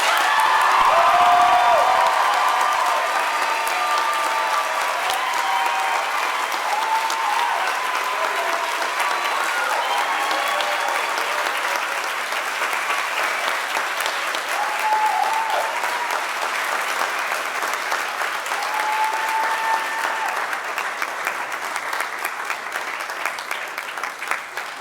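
A large audience at a school awards ceremony gives sustained, loud applause for award winners, with a few cheers and whoops mixed into the continuous clapping, which gradually thins toward the end.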